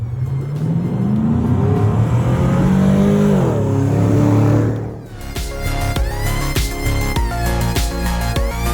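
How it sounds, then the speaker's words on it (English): Land Rover Defender 110 fitted with a GM L92 V8 and six-speed automatic, engine running with a loud rising rev and drop before a brief dip, then settling into a steady idle hum, close to the microphone. "This NAS 110 is now powered by our GM L92 engine with 6-speed automatic transmission."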